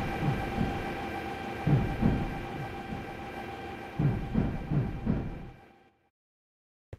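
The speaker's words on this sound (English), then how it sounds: "you hear the train hitting the track junctions" A Minecraft modded train rolls along its track, wheels knocking in rhythmic clickety-clack pairs over rail junctions under a steady rumble, then fading to silence near the end.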